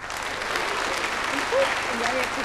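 Studio audience applause on a Dutch TV quiz show, a steady dense wash of clapping filling the room, with a faint voice briefly rising near the end.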